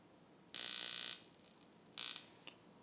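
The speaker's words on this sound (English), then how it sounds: "If you can hear that, it's the ignition coil." A high-voltage ignition coil in a Kirlian photography power supply buzzes in two short, bright bursts, the first about half a second long and the second briefer, each followed by a faint tick, against quiet room hiss.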